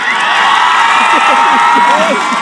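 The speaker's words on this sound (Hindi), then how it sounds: "उनके पास बॉल जाती है और वो गेंद को गैदर करते हैं तो तालियों के साथ उनका स्वागत किया जाता है" Spectators at a village cricket match clap and cheer in a steady, dense wash of applause, with shouts and whoops rising over it and voices mixed throughout.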